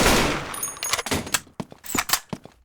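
An airsoft AK-47 being reloaded, with a dense run of quick metallic clacks, rattles and snaps packed close together, loud and near, with no voices.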